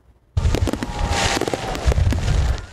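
Summer July fireworks in San Antonio bursting after a moment of quiet, a loud run of crackling pops and booms close by that continues to the end.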